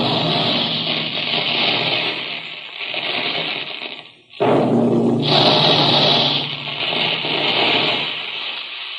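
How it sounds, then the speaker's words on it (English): Quaker puffing guns in the plant firing puffed wheat and puffed rice, a loud sustained roaring blast that breaks off briefly, then resumes with a hissing rush, heard alone without voices. "That's the sound you hear when puffed wheat and puffed rice are shot from special guns in the Quaker plant"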